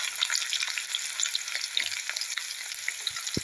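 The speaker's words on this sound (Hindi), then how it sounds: "जब तक हमारी एक तरफ वो प्याज फ्राई हो रही है" Chopped onions fry in hot oil in a kadai with a continuous crackling sizzle and scattered pops, and a soft knock of a utensil near the end; no voices.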